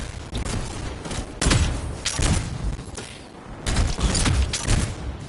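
A canister trap in the PS4 game Anthem explodes in a contained blast, heard as several heavy thumping booms in quick succession with rumbling debris between them, loud and close, with no talk.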